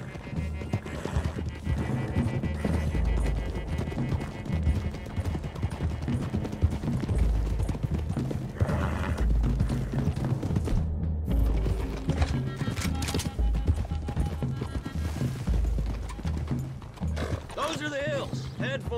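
Horses' hooves clip-clop along a road in Red Dead Redemption 2, with a horse whinnying, beneath steady game music and talk.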